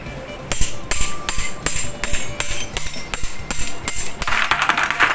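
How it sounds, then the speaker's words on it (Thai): Repeated hammer strikes on metal while fitting a part into a large standing electric fan under repair, about a dozen sharp, close taps in a fairly even rhythm, ending with a brief rattling clatter. "สอดเข้าไปข้างใน ค้อนตอก"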